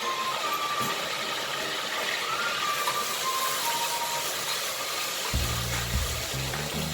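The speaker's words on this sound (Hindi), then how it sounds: "1 टेबलस्पून अदरक लहसुन का पेस्ट डाला है।" Ginger garlic paste hissing in hot oil with frying onions, a steady close sizzle throughout, with a low rumbling thump entering near the end.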